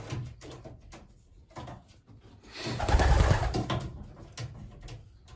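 Racing pigeons in a loft coo in low, throaty bursts, with a louder rolling coo swelling in the middle, close by, along with faint shuffling and a few knocks.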